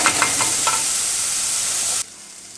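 Vegetables for chilli con carne sizzle loudly in a pan with a few stirring scrapes at the start, a close, steady hiss that cuts off abruptly near the end.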